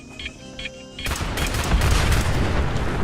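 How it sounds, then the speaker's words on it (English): In Fallout 76, a few faint beeps and tones give way to a sudden loud burst of gunfire and explosive blasts, a dense rattling barrage that continues steadily to the end without speech. "That sounds like an explosion."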